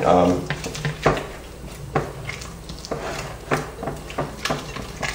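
Thick tomato paste and large garlic stirred in a pot for homemade pizza sauce: a spoon scrapes and knocks against the pot in irregular strokes, with light clinks, while a person talks over it.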